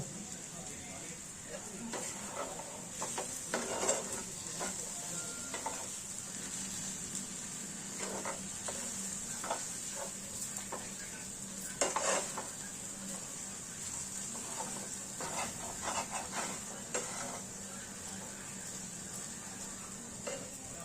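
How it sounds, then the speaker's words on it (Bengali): Urad dal paste frying lightly in a pan, a soft continuous sizzle with occasional clinks and scrapes of a spoon against metal as it is stirred, fairly quiet and without speech. "আমরা এটা ঠিক হালকা হালকা করে একটু ভেজে নেব"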